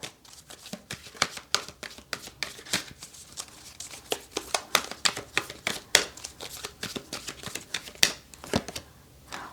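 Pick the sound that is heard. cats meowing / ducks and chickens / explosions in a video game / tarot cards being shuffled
tarot cards being shuffled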